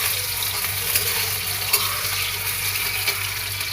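Chili fries in a pan on a home stove, giving a steady close sizzle and crackle with small pops scattered through it and no voices.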